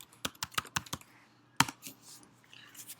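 A computer keyboard is typed on in a quick run of about six crisp keystrokes, then a short pause, then a louder tap followed by a few softer, scattered presses, all close and clear with no talking.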